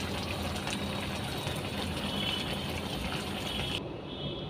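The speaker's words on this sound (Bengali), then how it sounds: "তোমরা দেখতেই পাচ্ছ বলক চলে আসছে" A pot of meat and potato curry boils vigorously, a dense, steady bubbling and hissing roar that continues without pause, with no voices over it.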